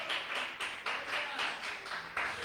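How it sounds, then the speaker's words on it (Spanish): A church congregation claps together during a Christmas sermon, a steady, dense patter of many hands in rhythmic surges, fairly faint and distant, with no talking over it. "Dele fuerte ese aplauso al Rey."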